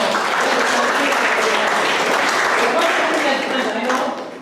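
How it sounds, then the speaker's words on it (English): An audience at a university youth-economics talk in Nashik, India applauds in a steady, loud wash of clapping that holds for the whole stretch before tapering slightly at the end. "let's give applause for those who come back to this country"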